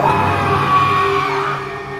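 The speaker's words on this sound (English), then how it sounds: "screamed, his body doubling over in agony." A man screams in agony, a loud sustained yell that holds strong for most of two seconds before tapering slightly at the end, with no other voices around it.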